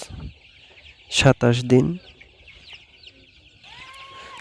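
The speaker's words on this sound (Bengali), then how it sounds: "আমার খামারে মুরগিগুলো দেখতে পাচ্ছেন আপনারা" Golden (Sonali) chickens about 27 days old on a poultry farm, droopy and suffering from white diarrhoea, give a short burst of clucking followed by thin peeping, close by and otherwise quiet, with a voice speaking briefly.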